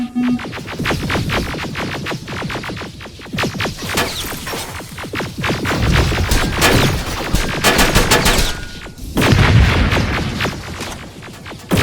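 Heavy gunfire in Terminator: Resistance, with rapid bursts of shots and sharp cracks repeating throughout, loud and close, punctuated by heavier impacts.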